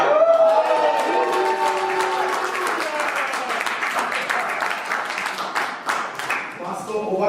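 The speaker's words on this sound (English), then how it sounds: "Let's give it a huge round of applause" An audience at a book launch in Newcastle breaks into sustained applause, dense clapping that holds steady and fairly loud for several seconds before thinning slightly toward the end.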